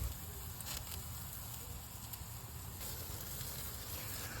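Small flame burning under bacon-wrapped steaks on a grill, giving a steady low hiss and faint crackle with fine sizzling patter, quiet and continuous with no talking.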